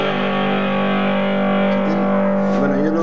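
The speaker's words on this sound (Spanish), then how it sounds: "una distorsión." An electric guitar played through a Korg AX5G multi-effects pedal rings out with a thick, loud distortion, sustaining held notes in a cover with no voice.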